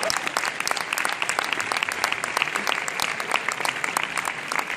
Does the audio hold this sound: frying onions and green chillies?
no